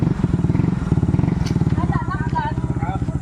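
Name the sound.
motorcycle engine running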